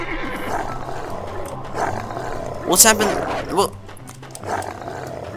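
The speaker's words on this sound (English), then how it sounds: "The wolf just killed this guy's horse." In a Roblox cowboy game, a wolf attacks a horse, giving a roar and a neigh-like cry in a loud burst mid-clip. A player talks and exclaims throughout.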